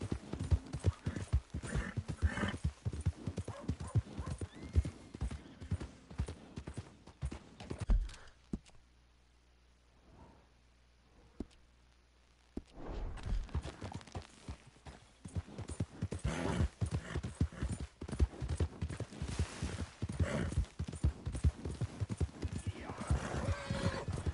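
Hooves clip-clopping steadily at close range in the video game Red Dead Redemption 2, then a few seconds of near silence before the hoofbeats resume; a horse whinnies along the way.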